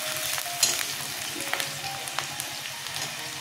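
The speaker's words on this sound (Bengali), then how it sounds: "পেঁয়াজটা আমি লাল করে ভাজবো না।" Onions frying in a pan, lightly rather than browned, giving a steady close sizzle and crackle with a few sharp pops and stirring scrapes, without talk.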